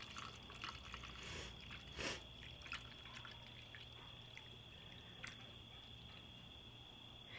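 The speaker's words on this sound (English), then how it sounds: "Basically, you're going to want to fill the hardener up to the 8 fluid ounce mark." Raptor liner hardener poured into an 8 fl oz cup makes a faint, thin liquid trickle with a few soft drips and splashes against quiet background hiss.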